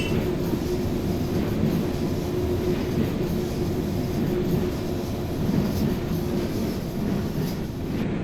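A Glasgow Subway 1980 Stock train in a Thomson Interactive train simulator game rolls by, giving a steady, continuous rumble and rail noise at moderate volume with no voices.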